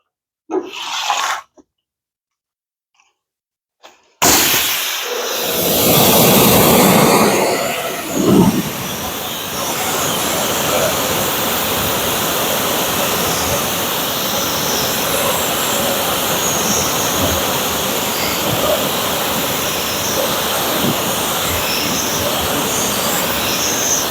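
A pressure washer spraying water to rinse a car tire, starting abruptly after near silence and then roaring as a loud, steady, broadband hiss for the remainder.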